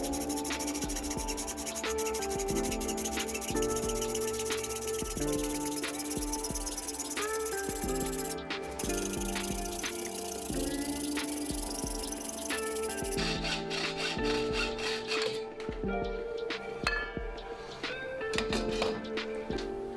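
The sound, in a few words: hacksaw cutting furling system profile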